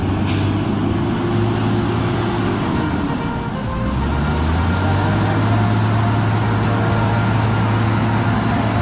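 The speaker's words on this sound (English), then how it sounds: "Mixer truck。" A heavy concrete mixer truck's diesel engine rumbles steadily nearby, with a brief hiss of air at the start and the engine note shifting midway.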